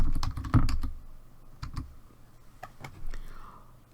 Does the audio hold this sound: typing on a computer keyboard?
yes